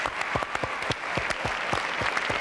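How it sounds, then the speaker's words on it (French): Applause from a television studio audience for a young girl on a French variety show, with sharp distinct claps at a moderate level and little other sound. "Applaudissements pour cette jeune fille."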